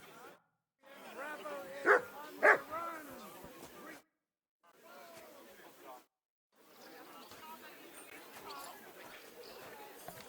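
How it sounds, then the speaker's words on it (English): A dog barks and whimpers in the medieval video game Kingdom Come: Deliverance II, with a few sharp yips standing out over game characters talking throughout. "you silly doggy."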